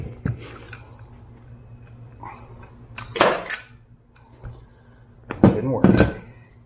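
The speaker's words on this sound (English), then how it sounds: "Here goes the first staple." A staple gun fires staples into a DR650 motorcycle seat cover stretched over the seat pan, producing a few sharp, loud snapping clacks spaced a couple of seconds apart near the microphone, with quieter handling noise between them.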